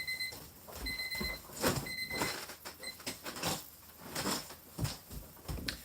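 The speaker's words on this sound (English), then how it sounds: "my alarm's gone off" Alarm clock going off in a room, a repeating electronic beeping in short bursts, several rings recurring at a steady rhythm over a noisy, clattering background.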